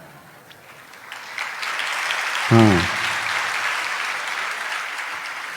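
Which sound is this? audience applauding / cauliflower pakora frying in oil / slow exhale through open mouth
audience applauding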